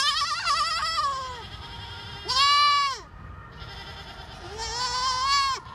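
A baby goat at an urban garden bleats three times in a row, wavering cries close by and loud, separated by short pauses with faint background sound between them.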